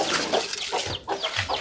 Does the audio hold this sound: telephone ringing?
no